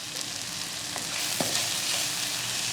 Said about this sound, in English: these veggies have been sauteing for about 5 minutes